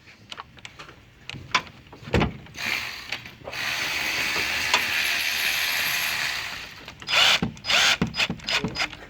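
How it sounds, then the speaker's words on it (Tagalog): A car battery terminal bolt being tightened on a 2020 Nissan X-Trail, with a sustained ratcheting whir from a power tool in the middle, framed by sharp metallic clicks and clanks close by. "Tight the bolt."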